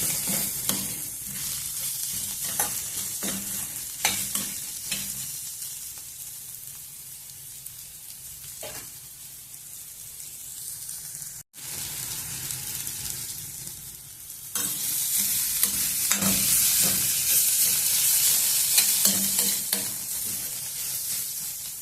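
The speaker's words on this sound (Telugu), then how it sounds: "వేసుకొని ఇవి కూడా కొంచెంసేపు వేగనిద్దాం" Bitter gourd curry fries in a pan with a constant, close sizzle and crackle, broken by scraping stirs, briefly cutting out midway, then returning louder and hissier.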